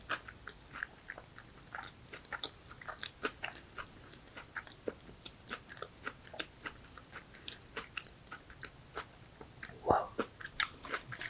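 A crab sushi roll with chewy rice is chewed very close to the microphone in soft, wet bites and crunches that repeat in an irregular rhythm, with quiet speech at times.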